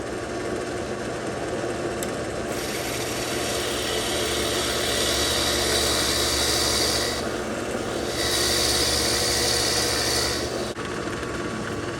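A drill press whirs steadily, its motor hum rising into louder bursts of cutting noise twice as the bit bores wood plugs.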